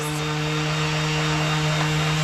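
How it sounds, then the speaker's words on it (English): Continuous buzzing whine of a power sander sanding boat propellers nearby in a boatyard, with a strong droning hum and no speech. "he's down here sanding the props"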